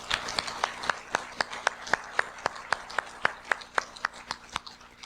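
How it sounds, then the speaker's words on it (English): Applause at an amateur radio club meeting comes as crisp, evenly spaced claps in a steady rhythm, about four per second, fairly close and sparse rather than a dense roar. "I'd like to start a round of applause for Eugene"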